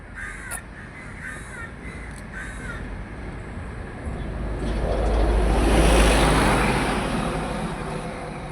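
Crows near an airport cawing in a few short harsh calls early on, moderately close, while a passing vehicle or aircraft swells into a broad roar midway and fades.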